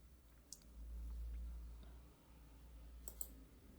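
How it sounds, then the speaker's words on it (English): Two sharp computer mouse clicks land on a download button, one near the start and a double tick near the end, small and close over a low steady hum, with no voices. "So just click on download."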